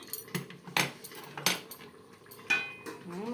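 A cooking pot of raw mango chutney lifted off the stove and its lid taken off, giving a few sharp metallic clanks and rattles up close, followed by a brief high ring.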